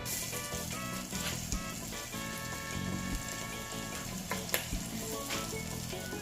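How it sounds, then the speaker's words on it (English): Curry powder and a piece of scallion frying in hot oil in a pan, a steady dense crackling sizzle with occasional sharp pops, close and continuous, with no talk. "sprinkle some of the curry in the oil so the curry could burn"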